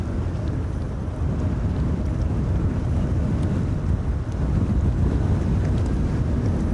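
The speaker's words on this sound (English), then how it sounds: "Right, the 747 is rolling." Heavy, steady roar of strong wind buffeting the microphone as a KLM Boeing 747 rolls down the runway at Amsterdam Schiphol during Storm Amy, the jet's rumble blended into a continuous low, loud wash with no voices.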